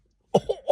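A person coughs once after a moment of silence, a short, close, throaty burst that breaks into two or three quick pulses.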